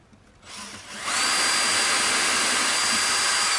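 A power drill bores pilot holes into a guitar during the build, rising to a loud, steady, high-pitched whine that holds without talk. It starts with a softer spin-up and then runs at full speed.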